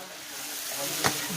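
Kapampangan sisig frying in its own rendered fat in a backyard on a cold, windy afternoon, a steady close hiss and crackle with one brief louder pop.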